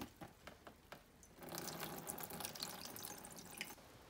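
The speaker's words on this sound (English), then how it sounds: "I'm gonna use my watering can to add a little bit of water." Water pours from a watering can into jars, first as a few scattered drips and splashes, then as a steady trickling stream, faint and close with no voices.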